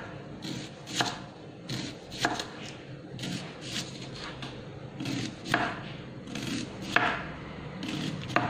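An onion is sliced into thin rings on a cutting board, with a run of separate knife chops at an irregular, steady pace, close and fairly soft, and no talk.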